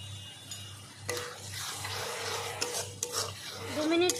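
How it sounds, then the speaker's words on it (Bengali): Katla fish sautéing in a pan with chili powder, turmeric and salt, a soft continuous rasping stir with a few sharper scrapes of the spoon against the pan, close and fairly quiet. "2 মিনিট কষিয়ে নেব।"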